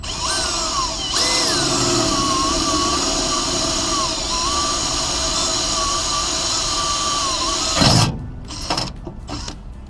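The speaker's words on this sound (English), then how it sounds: "Let's drill." A power drill whines steadily at close range into a truck bumper, its pitch dipping and rising under load, then cuts off and is followed by a few clattering knocks.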